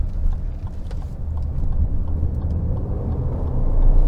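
A 2023 Lexus RX 350 with a turbo four-cylinder engine accelerates out of a turn, a low steady engine hum that swells in loudness toward the end, with road rumble beneath.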